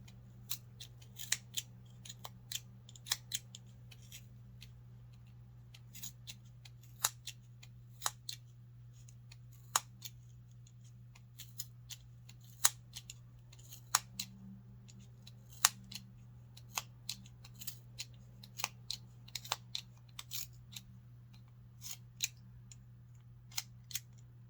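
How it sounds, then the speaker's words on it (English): Scissors snip through yarn wound on a pom pom maker, dozens of short sharp clicks spaced irregularly over a steady low hum, close and fairly quiet, with no talking. "Make sure that this does not open, make sure that it stays shut. So take your time, cut."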